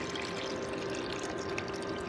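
Water pouring steadily into the tank of an Arctic Air evaporative cooler, a continuous close splashing trickle at low level with no speech.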